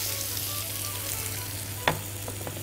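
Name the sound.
onion frying in olive oil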